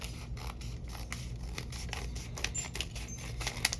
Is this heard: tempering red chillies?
no